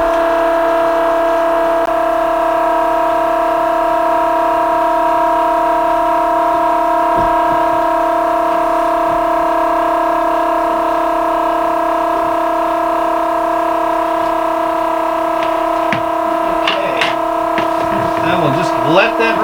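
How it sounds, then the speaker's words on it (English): An oil extraction pump drains diesel engine oil aboard the motor vessel Tortuga, giving a steady droning hum with strong sustained tones that runs throughout, with a few clanks and rattles near the end. "So we'll let this pump for a minute until it finishes."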